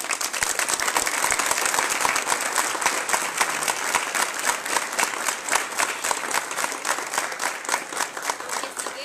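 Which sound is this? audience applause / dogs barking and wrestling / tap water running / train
audience applause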